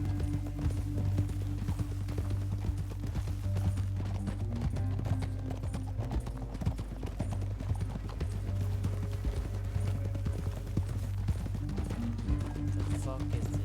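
Steady clip-clop of galloping horse hooves in Red Dead Redemption 2 runs throughout, close and even, over a low rumbling backdrop with a voice now and then.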